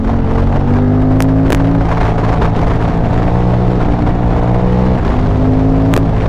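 A 2005 KTM 950 SM supermoto motorcycle being ridden, its engine a loud, steady close drone with shifting pitch as it pulls through bends, brief sharp clicks punctuating the run.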